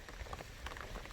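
Rain falls steadily on a mountain road along the Appalachian Trail, a dense, soft patter of drops at low volume without pause.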